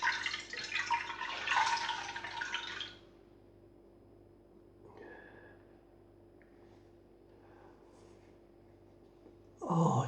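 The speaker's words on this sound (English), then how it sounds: "Just rinse my cloth" A shaving cloth is rinsed under running water at a sink, a close, steady splashing for about three seconds, then quiet with a faint hum before a short final burst of water.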